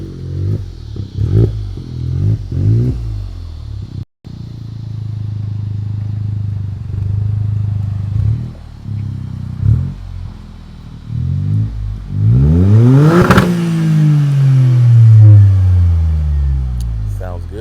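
A Toyota GR Corolla fitted with a 2J Racing exhaust revs in a string of short throttle blips, then climbs into a long, loud rev that peaks sharply and falls back to a rumbling idle.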